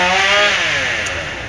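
A chainsaw runs at a steady high rev, loud and close, with a dense buzzing drone that holds on alone.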